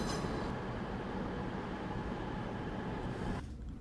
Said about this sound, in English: so we're now on the train